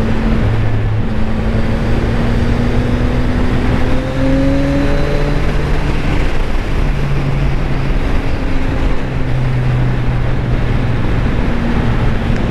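A 675 NK three-cylinder 600cc motorcycle on its stock exhaust is ridden steadily, a loud continuous engine drone with gear-shift pitch steps rising and dropping, close up over wind and road noise.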